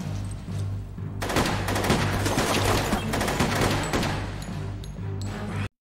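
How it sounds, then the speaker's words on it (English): Heavy, continuous gunfire from a Stargate SG-1 scene: rapid overlapping shots in a sustained burst that cuts off abruptly at the end, with no speech. "just as the president arrives, Martouf starts firing."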